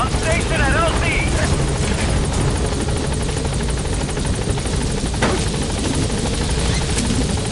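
Pequod helicopter arriving at the landing zone in Metal Gear Solid 5, a loud steady rotor drone and engine whine filling the whole stretch, with radio chatter over it.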